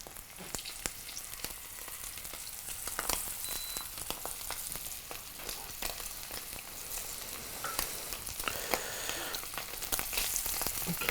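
Beef sizzles in butter in a pan, a continuous close crackle of frying with sharp pops and spits throughout, no voices.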